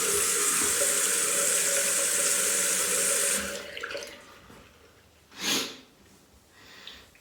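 Tap water running onto Stirling Soap Company Ozark Mountain shaving soap: a steady close hiss of flowing water for a few seconds, then it stops, followed by a short sharp sniff and faint handling noises.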